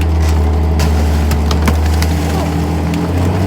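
A tank's engine runs loud and steady at close range, a continuous low mechanical drone with rattling overtones pushed under load, with no break across the whole stretch.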